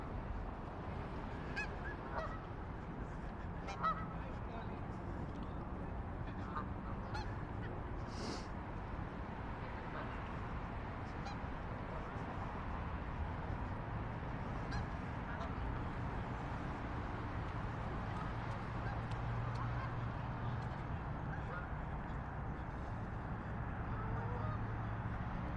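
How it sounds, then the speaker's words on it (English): Goose honking outdoors by the Tidal Basin waterfront in Washington during cherry blossom season, repeated calls standing out over steady crowd and city ambience, moderately close. "You're talking to that goose."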